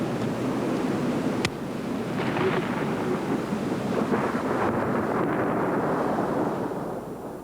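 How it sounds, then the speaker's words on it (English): Thunder rolling through a Southern winter blizzard during a rare thundersnow, a deep loud rumble sustained for several seconds with a sharp crack early on, slowly fading at the end, no talking. "A few minutes later, we captured a rare phenomenon here in the South, thunder snow."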